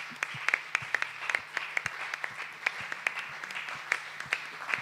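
A church congregation claps steadily, the sharp hand claps overlapping in a dense patter with occasional louder claps, over a low hum.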